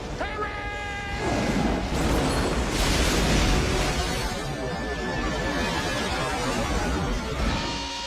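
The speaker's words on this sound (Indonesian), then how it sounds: "pengeboran menghantam kantong gas yang kemudian meledak dan menghempaskan armadillo beserta Max di dalamnya" A big rumbling gas pocket explosion from an oil drilling scene in the film Armageddon (1998) bursts out after a brief tonal sound, followed by a long roaring, crackling blast that sustains and slowly fades.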